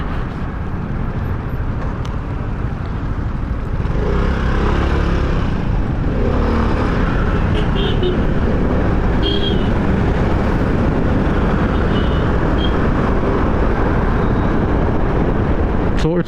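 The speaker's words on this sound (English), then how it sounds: "When it's warm, yeah, you just crank the engine with little throttle and it'll start up." A warm carbureted Vespa VXL150 scooter engine cranks and starts with a little throttle, then settles into a loud, close, steady low idle rumble that lasts for many seconds.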